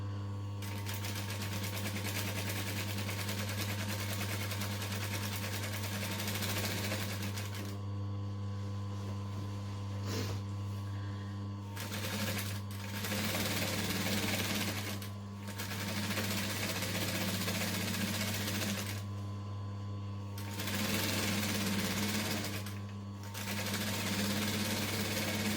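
A sewing machine with a small rolled hem foot stitches a circle skirt hem, running in long steady bursts with short pauses between, a loud continuous mechanical whir over a low hum.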